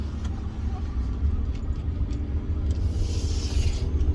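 A pickup truck fitted with a Corsa exhaust pulls along a road with a steady low rumble from the engine and exhaust, mixed with continuous road and cabin noise.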